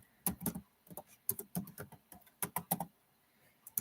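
Someone types in irregular bursts on a computer keyboard, close by and fairly quiet, with clicky keystrokes and short pauses between them.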